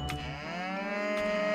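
Cows mooing in a video game, a close, drawn-out low moo with rising tone, overlapped by a second bovine call, loud and clear with no talking.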